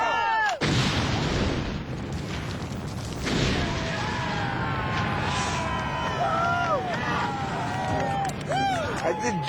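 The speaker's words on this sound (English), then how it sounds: "I blew something up" A demolition charge booms during boot camp training, followed by a sustained roar and rumble under shouting recruits and crowd noise over a busy, loud field.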